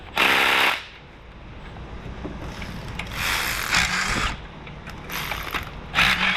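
A ratchet wrench on an extension, used on a damaged Ford 3.0 V6 EcoDiesel engine, clicks in four quick rattling bursts separated by pauses. The bursts are fairly loud and close, with no talk.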